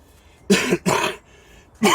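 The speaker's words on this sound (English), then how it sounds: "It's just a cough." Three loud, close coughs, the first two back to back, then a pause before the third, with quiet between.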